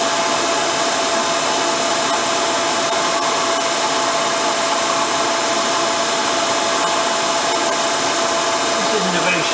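A blunt drill boring a hole during work on a 1959 BSA C15T motorcycle, a loud, steady, unbroken whine with no pauses and no talking.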